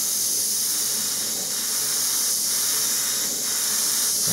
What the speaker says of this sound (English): I'm going to go ahead now and just spray the pinkier version of this now.